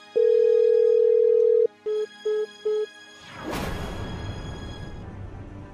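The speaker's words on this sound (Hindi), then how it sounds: "इनका तो फोन ही नहीं लग रहा।" A long electronic tone is followed by three short beeps of a failed phone call, then a whooshing noise.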